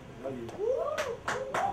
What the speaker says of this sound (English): Clap louder you under 30 years old.